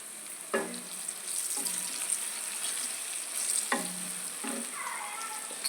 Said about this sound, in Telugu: ఉల్లిగడ్డ తాలింపు వచ్చేసిందండి. ఉల్లిగడ్డలు మంచిగా వేగిపోయాయి.